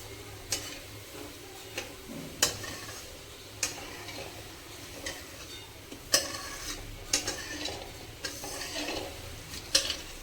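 Chopped onions with a little salt frying in oil for chicken curry, a soft low sizzle broken by repeated sharp clicks and scrapes of a spatula against the pan at irregular intervals; no speech.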